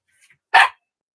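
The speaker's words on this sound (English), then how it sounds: "He has found his bark." A young dog lets out a single short, sharp bark close by, preceded by a faint soft whine, with silence afterward.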